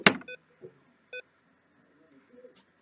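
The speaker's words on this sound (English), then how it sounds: "My computer just beeped twice." A computer gives two short electronic beeps in quick succession, clean and fairly loud, after an initial clatter, with a faint hum and soft room noise in between.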